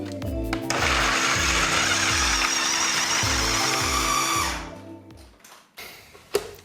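Food processor blending dates into a brownie dough, a loud steady whir running for about four and a half seconds with rhythmic pulsing low thumps, then stopping, followed by faint handling noises and a sharp clack.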